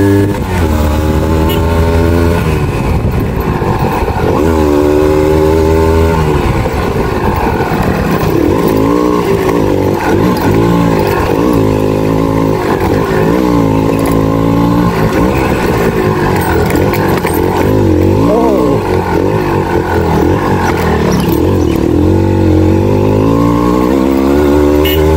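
A 35-year-old Honda H100 motorcycle rides off-road, its small engine droning loud and close throughout with the pitch rising and falling steadily as the throttle opens and eases over rough ground.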